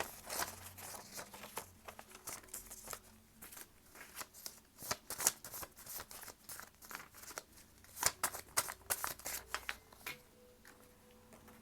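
Tarot cards being shuffled and drawn close up, with rapid papery riffles, flicks and soft slaps in a busy, continuous rhythm at low volume.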